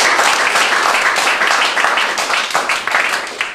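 Studio audience applause as a television show opens, a loud, dense burst of clapping right up close that keeps going and then tapers slightly at the end.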